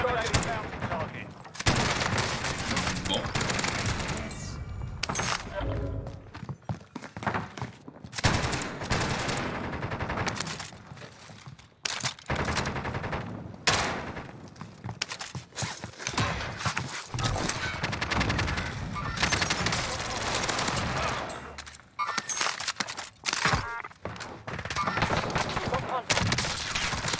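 Rapid gunfire from a Call of Duty Warzone match on Rebirth Island, dense bursts and shots crackling almost continuously with brief gaps, loud and close, with game sounds layered around it.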